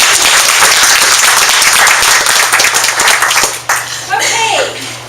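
A crowd gives loud, dense applause for T-Bird, a newly named vice president, at the GNA launch event in Modesto. The clapping lasts about three and a half seconds, then thins out as a voice starts speaking.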